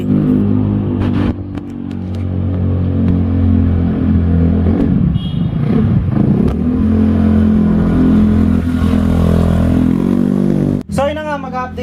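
A restored Honda Scoopy scooter drones loudly and steadily through a test ride, its engine note rising and falling slightly with throttle, with a brief dip and some clatter near the end.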